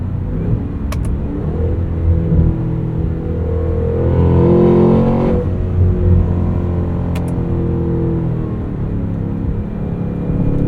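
2025 Cadillac Escalade V engine revving hard at full throttle through a 10-speed transmission, a loud, steady, deep roar heard from inside the cabin with a slight swell in the middle.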